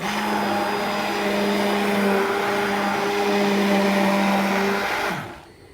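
An electric hand mixer whirs steadily as it blends frozen homemade ice cream, a loud continuous motor hum that holds for about five seconds before winding down and stopping.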